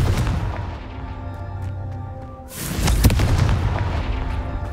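A deep, booming fire-blast explosion from the Confringo spell in the Hogwarts Legacy video game, bursting loudly partway through over a low, rumbling background.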